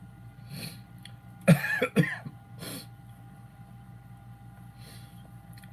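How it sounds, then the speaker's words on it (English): A couple of harsh coughs from a person with a cold burst out close by in quick succession, followed by a softer throat-clearing sound against a quiet, humming background. "I am constantly sneezing and coughing."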